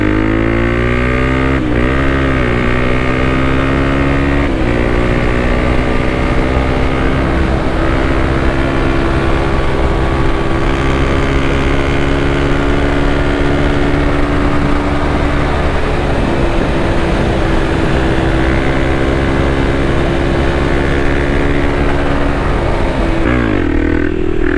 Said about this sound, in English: I want to be kind of just riding around some streets, some dirt, and talking about whether I think the KLX300 was worth it